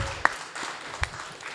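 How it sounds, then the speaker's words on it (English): Faint, distant applause from a convention audience at a YouTube panel, a thin scattered patter with a couple of sharper claps standing out over about a second and a half. "A big round of applause to all of them."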